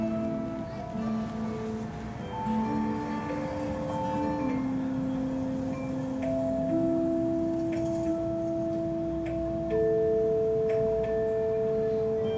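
Interactive musical swings trigger a set of notes at the peak of each swing: a sequence of clear sustained electronic tones, one after another, over a steady outdoor crowd murmur.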